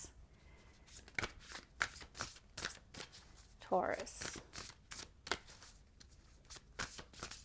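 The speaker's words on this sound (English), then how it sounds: "The only thing with this deck is so large, it's hard to shuffle." A large tarot deck is shuffled by hand in quick, close, papery riffles and slaps, with a louder flurry of cards near the middle, while a person speaks briefly.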